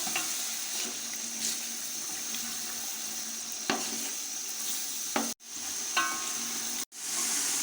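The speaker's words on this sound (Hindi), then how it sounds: "थोड़ा सा हमने चनों वाला पानी इसमें ऐड किया है और 7 से 8 मिनट आपने मसाले की अच्छे से भुनाई करनी है" Masala for chana pulao, loosened with chickpea cooking water, sizzles and bubbles steadily in the pot, with a few stirring scrapes and two brief sharp breaks in the sound near the end.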